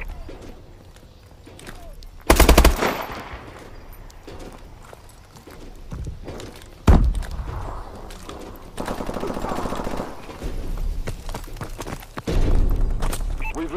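Automatic gunfire from a Call of Duty Advanced Warfare match comes in sharp bursts amid clattering game effects and movement, with a loud burst early and more firing later.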